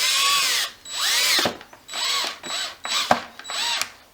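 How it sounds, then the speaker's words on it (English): A power drill drives a screw into a wooden dowel in several short bursts, with whirring spin-ups separated by brief pauses, close and fairly loud. "It's really important that you put the screw in just a little bit to make sure it's in and straight."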